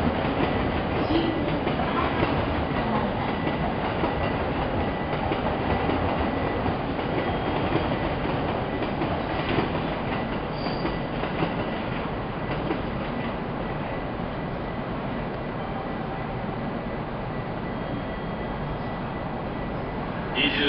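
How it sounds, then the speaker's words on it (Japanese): A Hokuriku Shinkansen E7 series train rumbles steadily along the rails as it arrives at platform 21 of Tokyo Station, loud and close, with a continuous rolling clatter and faint voices in the background. "21番線のご注意ください。電車が到着しております。"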